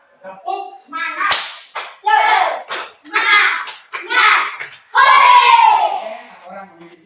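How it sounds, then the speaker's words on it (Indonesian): A group claps together in a quick rhythmic Indonesian cheer clap, mixed with children chanting loudly in time, close and lively. "mari kita berdiri dan kita tepuk semangat mengakhiri kegiatan ini"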